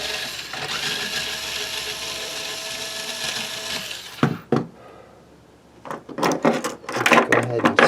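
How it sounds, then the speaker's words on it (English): Old, blackened strings are pulled off an Ibanez guitar with a wraparound tailpiece: a long metallic scraping whine, then a pause and a string of sharp snaps, rattles and handling clatter close by. "Let's pull these old strings off of it"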